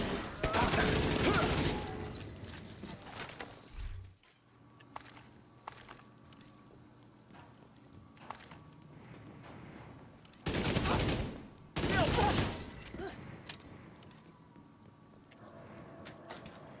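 Bursts of video game gunfire as a player shoots at inanimate objects, loud clusters of shots near the start and again later, with quieter game sounds and scattered clicks between them.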